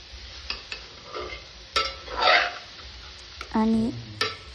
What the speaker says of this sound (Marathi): सर्व गाजर एकदा परतून घ्यायचे.